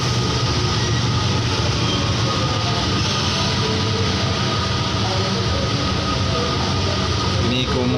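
A commuter train bound for Jogja rumbles through Solo Balapan station, a steady loud rolling drone with rail noise that holds constant throughout, with no clear talk over it.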